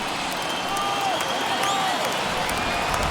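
A baseball stadium crowd in the video game MLB The Show 21, a steady dense wash of cheering and clapping from thousands of fans, continuous and moderately loud.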